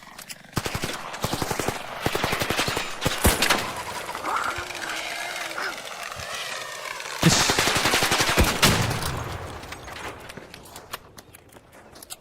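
Gunfire in the video game ARC Raiders near the Port Authority building: bursts of sharp shots, dense at the start and again around the middle, with quieter gaps between, heard up close.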